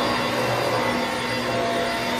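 A Roidmi F8 cordless vacuum cleaner runs steadily indoors at close range, a smooth continuous motor whine and airflow hum with no breaks and no voices.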